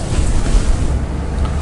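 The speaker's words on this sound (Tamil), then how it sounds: "தேவையான அளவு தண்ணி விட்டுக்கலாம்" Water is poured into a mixer grinder jar holding rice, a close, steady splashing rush that lasts the whole moment.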